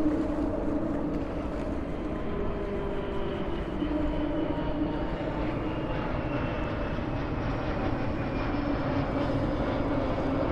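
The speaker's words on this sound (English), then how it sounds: "I was filming the plane" Airplane flying overhead near the 25th of April Bridge in Lisbon, a loud, continuous engine roar with a slowly shifting whine across the whole stretch, steady and close, with no talking.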